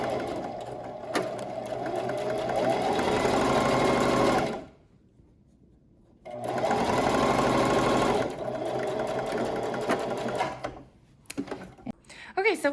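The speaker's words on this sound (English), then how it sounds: "So just go ahead and sew down these edges." A sewing machine stitching down the edges of a T-shirt fabric mask, loud steady whirring in two long runs separated by a brief pause, then a short stop near the end.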